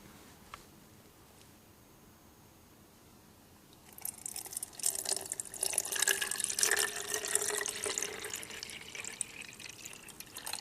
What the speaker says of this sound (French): Et donc je vais mettre l'eau dedans.